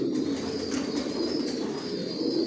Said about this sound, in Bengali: অরিজিনাল রেসার, জনসন লাইনের, সব লংয়ের কবুতর পালি।